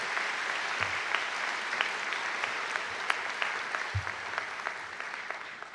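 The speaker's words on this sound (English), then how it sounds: "Let's take a minute just to recognize all these special guests with a big round of applause." Audience applause at a spring graduation ceremony in Conlon Hall, a steady dense wash of many hands clapping at moderate distance, sustained evenly throughout with a few sharper individual claps standing out.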